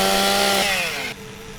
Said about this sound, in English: Don't mind me, I'm just rubbing the chainsaw right into your face.